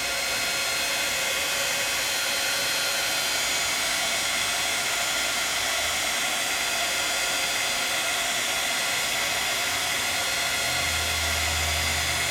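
A heat tool blows steadily over embossing powder on a letterpress card, making a constant loud whooshing hiss with no break, and a low rumble joins near the end.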